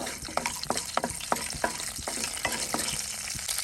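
Urad dal, chana dal, cut dried red chilies and curry leaves crackle in hot oil, with a steady sizzle and a run of sharp, close spoon-stirring clicks and taps against the pan.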